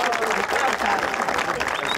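A small group claps in steady applause for the boys inside a home, mixed with lively talk and cheering voices throughout, fairly close and continuous.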